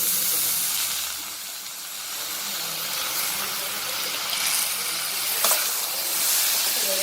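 Onions and chana dal sautéing in oil in a pan, a loud continuous sizzle and steamy hiss with occasional spatula scrapes and stirring, close and steady throughout.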